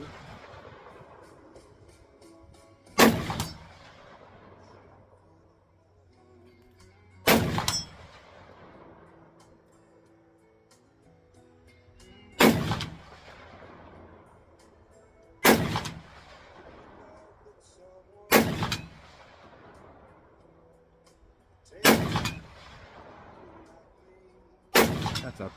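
A Sig Sauer AR10 .308 rifle fires seven loud, evenly spaced shots at steel plates on a shooting range, each a sharp boom with a long echoing tail and quiet gaps between.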